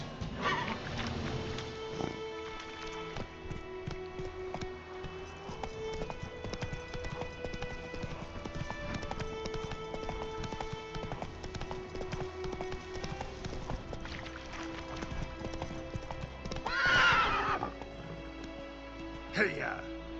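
Hooves of a horse galloping in The Witcher video game drum in a fast, steady clip-clop, with game music and a voice over it.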